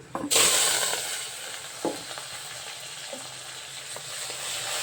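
Round dried red chillies, onion and spices hit hot oil with a sudden loud sizzle that settles into a steady close frying hiss, broken by a few scraping stirs and soft knocks of a spoon.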